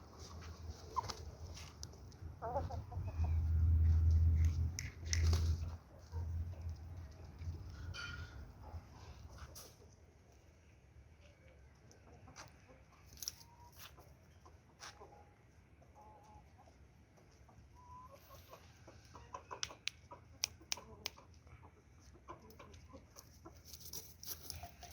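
A young Aseel rooster moves about beside its mother hen, giving faint, scattered clucks; a low rumble fills the first few seconds before the sound settles into quiet.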